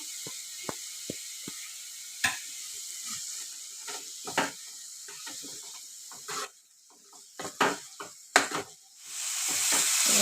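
A spoon scrapes and stirs wax gourd laddoo mixture in ghee in a pan, giving irregular clicks and scrapes over a soft, steady sizzle, with no voices.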